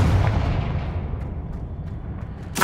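A Confringo blasting spell explodes in Hogwarts Legacy: a loud, deep boom opens and slowly fades into a rumbling tail, then a second sharp blast bursts near the end.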